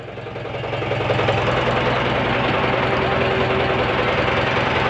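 A boat engine idles at the Khanderi fort jetty with a loud, steady low throbbing drone that swells in the first second and then holds, while people talk faintly nearby.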